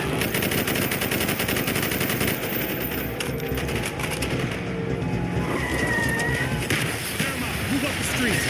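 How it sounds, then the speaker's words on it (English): Dense, continuous automatic gunfire and battle noise in the Call of Duty: Black Ops campaign during a street fight, with soldiers' voices shouting through the loud, unbroken din. "Bowman, Carlos, lay down covering fire"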